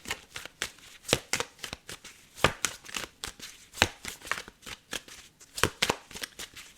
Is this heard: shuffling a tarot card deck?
yes